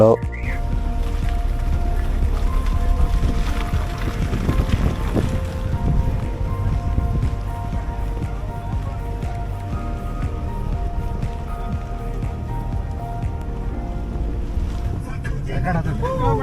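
Strong monsoon wind on a hilltop temple site near Hassan, Karnataka, buffets the microphone with a constant low roar, muffled voices and a droning engine-like hum underneath.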